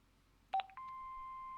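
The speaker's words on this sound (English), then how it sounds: "Hobbs's answer phone, and he's got messages. Let's hear them." An answering machine in the Broken Sword 5 adventure game beeps before playing messages: a short tone burst followed by a single long steady electronic beep, clean and alone.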